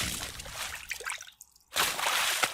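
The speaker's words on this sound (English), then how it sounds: "that's him just like splashing water" Water splashed by hand for dinosaur sound design makes wet sloshing and dripping bursts close to the microphone, dropping to near silence midway before a fuller, louder splash returns.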